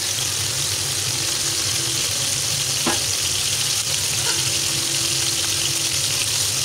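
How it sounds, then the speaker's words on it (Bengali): Fish pieces frying in a pan, a steady dense sizzle throughout with a couple of brief clinks of a utensil, close and fairly loud, no talking. "আমি মাছগুলো ভেজে ভুনা করছি।"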